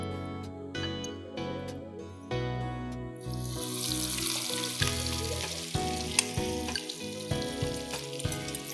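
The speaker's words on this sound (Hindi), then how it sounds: "इसको हम फ्राई कर रहे हैं जल्दी से तेज़ आंच पे" Battered bread frying fast over high heat for a sandwich, a loud, steady sizzle that swells after a few seconds and keeps crackling with small pops, with no one speaking.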